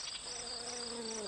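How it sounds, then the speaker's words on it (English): Bee buzzing sound effect from a Sesame Street bug app, a steady droning hum with a high insect whine over it, continuous and close, with no voices. "Bee."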